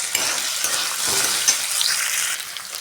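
Finely chopped potato frying in hot oil for sabudana khichdi, a steady close, bright sizzle with occasional stirring scrapes throughout, no talking.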